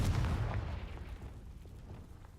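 A Confringo blasting spell explodes in a Harry Potter video game, giving a single deep boom that starts loud and fades over a couple of seconds into a rumbling tail, heard alone.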